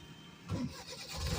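A car engine turns over and catches during a driving lesson, then settles into a low idle, heard close from inside the car with no talking.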